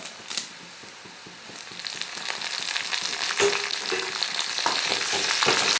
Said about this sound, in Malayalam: രണ്ട് വറ്റൽമുളക് ഇട്ട് കൊടുക്കാം ഉണക്കമുളക് രണ്ട് തണ്ട് കറിവേപ്പില ഇട്ട് കൊടുക്കാം